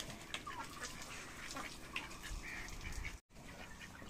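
Farm ducks sprayed with water on a hot day, giving faint scattered quacks and bird calls over a hiss of running water, with no speech.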